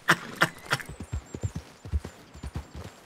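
Horse hooves clip-clop in a steady walking rhythm in Red Dead Redemption 2, close and clear, with a few louder knocking beats at the start and a faint high tone running above.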